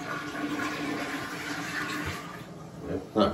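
A household toilet flushes ticks away with a rushing, hissing surge of water that lasts a few seconds and then fades. A short bump follows at the end.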